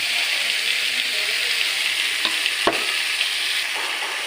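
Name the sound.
frying cut potatoes in a pan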